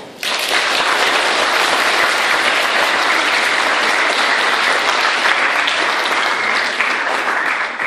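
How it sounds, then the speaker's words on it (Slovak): At a primary school welcoming ceremony for new first-graders, a crowd bursts into applause at once, sustained, loud and dense clapping from many people that holds steady throughout. "Potlesk pre našich nových spolužiakov."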